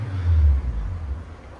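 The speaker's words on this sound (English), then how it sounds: "You can hear Joel's car coming right now." A car approaching, a low engine rumble that swells briefly and then eases off at a moderate distance, heard alone without talk.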